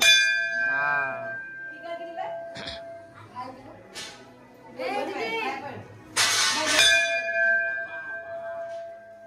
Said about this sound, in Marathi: वाजव, घंटा वाजव.